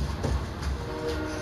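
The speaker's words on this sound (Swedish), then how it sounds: "Nej, tåget är för snabbt." A train rushes past in the Fortnite video game, a steady low rumble with rail noise close by and fairly loud, filling the whole short moment without any talk over it.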